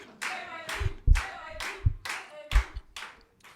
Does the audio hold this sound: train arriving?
no